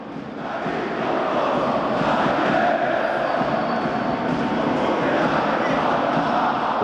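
Fans at a men's African club volleyball championship match between Al Ahly and the Congolese club fill an arena with a loud, sustained roar of cheering, a continuous wash of crowd noise throughout.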